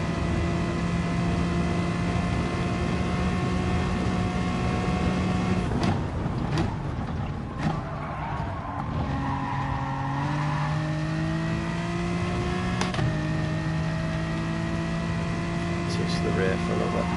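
Car engine in a racing video game, a steady droning tone with shifting pitch that drops and rises at gear changes, running loud and continuous throughout, with brief clicks and someone talking over it.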